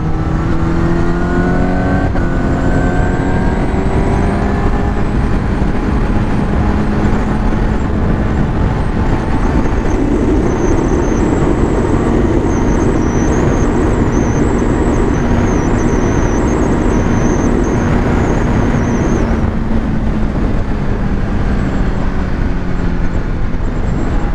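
Honda CBR1000RR-R SP superbike engine holding a loud, steady drone that climbs and sags in pitch over about 24 seconds, with wind rush and no talk over it.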